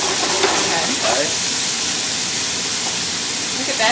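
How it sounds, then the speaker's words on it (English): Steady loud sizzling and hissing of beef frying in a hot pan in a restaurant kitchen, continuous throughout with a few faint clinks. "Look at that sizzle."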